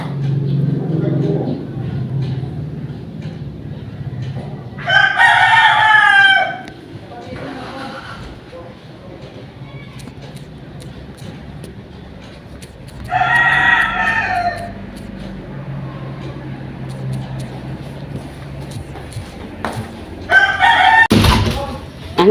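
Roosters crow loudly at a farm, three bursts spaced several seconds apart, with faint clucking from chickens in between and a person talking quietly underneath.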